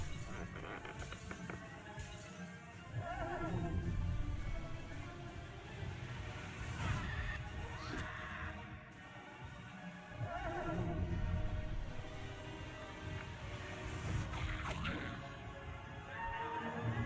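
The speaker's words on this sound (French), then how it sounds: "C'est le cheval, non?" A horse in the fantasy video game Wizard101 whinnies several times in drawn-out, wavering calls, repeating at intervals over a steady bed of game ambience and music, fairly close and moderately loud.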